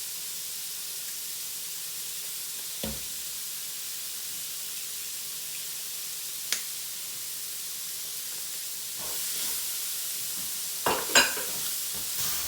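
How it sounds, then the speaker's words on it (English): Three large garlic cloves sweat in a pan for a creamy chicken and mushroom dish, giving a soft, even sizzle with a few sharp clinks and stirring noises near the end. "And put some garlic in there as well to sweat off."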